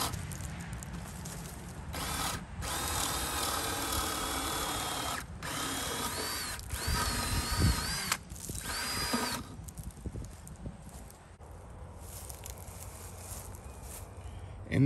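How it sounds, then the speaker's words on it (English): A power drill bores a hole into a wooden trellis post for muscadine vines, whining in several bursts separated by brief pauses, close and fairly loud over outdoor background noise. "And I'm going to drill me a hole"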